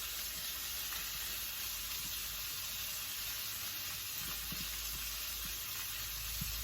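Bacon sizzling in a pan while breakfast cooks, a steady, faint crackling hiss that runs unbroken with small pops, with no talking over it.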